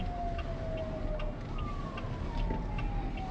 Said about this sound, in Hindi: देखो वहाँ पे एम्बुलेंस तक फंसी हुई है।